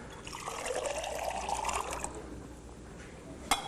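Colored water pours into a 1 liter tall form beaker in a steady trickling stream that rises in pitch as it fills, ending with a small clink, no talking.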